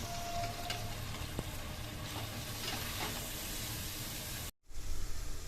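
Spices and ginger-garlic paste sizzle in hot oil in a pan, a steady close hiss with occasional stirring scrapes, cut off briefly near the end before resuming.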